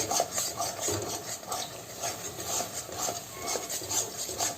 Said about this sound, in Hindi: इस तरह इसे चलाते रहें और दूध डालते रहें।